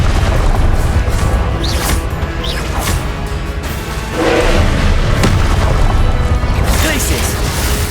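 Loud, dense game combat from Hogwarts Legacy with repeated booming Confringo spell blasts, crashes and thuds layered over a constant rumbling battle bed and spell-casting voices.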